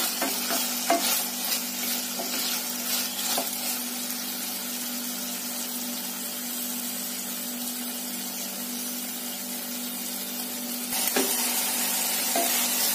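A spoon stirs and scrapes ingredients in a pan over a low gas flame while cooking a macaroni dish, with a continuous close sizzle and repeated stirring strokes throughout.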